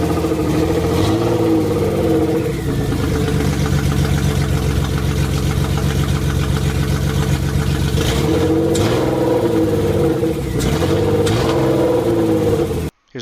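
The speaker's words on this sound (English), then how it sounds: "we threw the M50 in there and we decided to start it up." A BMW M50 engine in an E30 idles loudly and close, with several revs rising and falling in pitch before cutting off abruptly at the end.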